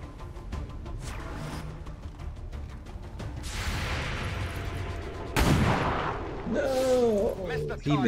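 Gunfire and explosions in the video game XCOM 2 on a Long War retaliation mission, with loud bursts and booms building toward the end and a voice talking over parts of it.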